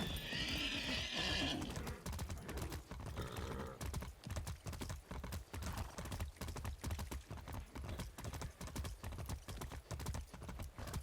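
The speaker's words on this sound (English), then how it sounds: "I feel so bad for this horse." A horse in the Far Cry 6 video game neighs loudly at the start, then its hooves clop in a steady, rhythmic gallop, close and prominent.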